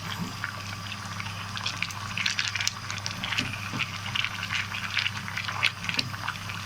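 Cow trotters stew simmering in a pot, stirred with a wooden Upper Egyptian mafrak: close, steady bubbling and sizzling with scattered scraping and tapping of wood against the pot.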